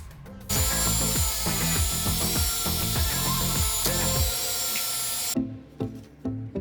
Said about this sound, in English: So I'm about to clean up the metal section with the Dremel.